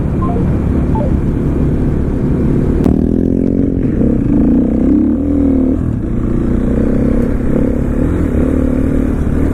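A supermoto motorcycle engine runs loud and close throughout, a steady low droning rumble with the pitch shifting as the rider pulls away, no voices.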